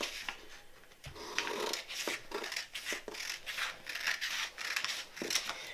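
Scissors snip through jersey fabric, cutting the front piece along the waistline in a series of close, crisp crunching cuts with short pauses between them.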